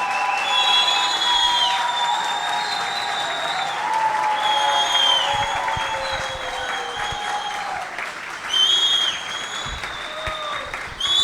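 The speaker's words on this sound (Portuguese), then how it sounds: "Mais palmas, mais palmas, mais palmas!" A comedy show audience applauds a comedian coming on stage, with sustained, dense clapping that swells and fades, plus scattered whoops and whistles.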